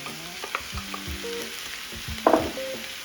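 Sweet potato hashbrowns with green peppers fry in a pan with a steady sizzle, while a utensil stirs and scrapes, clinking against the pan several times. A louder clatter comes near the end.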